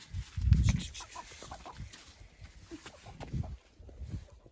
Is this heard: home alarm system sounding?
no